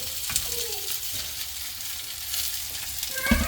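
Curry leaves frying in a pan for a Telugu ridge gourd chutney, giving a soft, steady sizzle with a few brief louder crackles near the end, close and moderately quiet with no talking.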